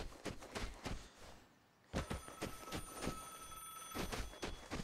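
A telephone rings in the Vigor video game, a repeating electronic bell-like tone in regular pulses, with a brief pause partway through before the ringing continues, moderately quiet.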